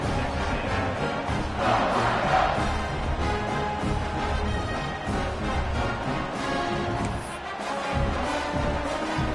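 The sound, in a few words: football stadium crowd buzzing after a score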